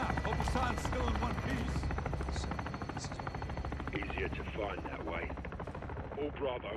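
A helicopter arriving as support in Call of Duty Modern Warfare II, a low rotor drone running throughout under bursts of gunfire and machine-gun fire, with voices calling out in the middle.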